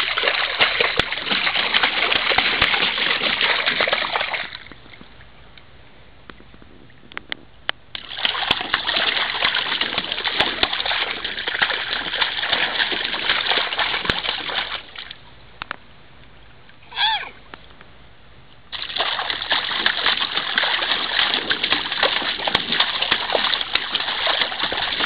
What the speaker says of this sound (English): Do you like splashing?